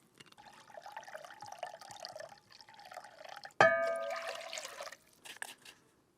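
Vinegar is poured for pickling pike, a soft trickle at first and then a fuller splashing pour into a container, with a few drips trailing off at the end.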